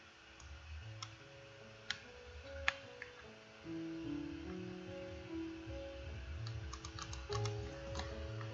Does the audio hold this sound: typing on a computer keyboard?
yes